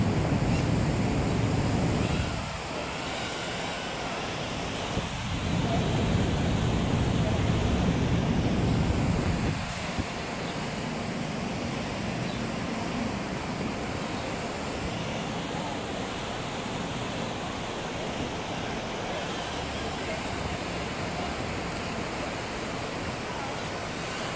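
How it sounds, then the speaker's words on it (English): Steady wind rushing outdoors among trees, a broad continuous roar with gusts swelling and easing, loud and constant through the whole stretch without speech. "Wind's really blowing it here."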